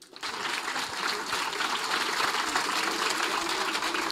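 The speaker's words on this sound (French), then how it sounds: "On va applaudir pour eux." Schoolchildren clap together at a flag-raising ceremony at a bilingual international school. The dense, steady clapping starts almost at once and holds at an even level throughout, like a crowd applauding nearby.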